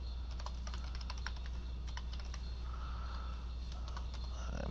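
Fast, uneven keystrokes on a computer keyboard entering a password at a thin-client login, close and fairly quiet, over a steady low hum.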